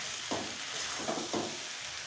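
Mixed vegetables cook uncovered in a pan, a quiet continuous sizzle close by, broken by a few soft stirring scrapes at regular intervals, with no voices.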